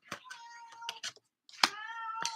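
A cat meows several times indoors, close and clear, in a series of drawn-out, rising and falling calls with short pauses between them.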